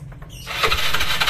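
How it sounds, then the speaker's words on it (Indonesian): An old Yamaha Mio scooter engine with a starting fault cranks and briefly catches with a high, whining rev, then sputters and dies, all over in about a second. "motor hidup dan mati lagi ya, masih gagal lagi"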